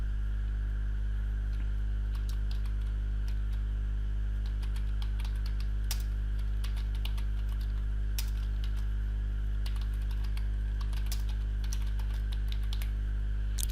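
A computer keyboard being typed on steadily, a run of quick light clicks over a constant electrical hum, with no talking.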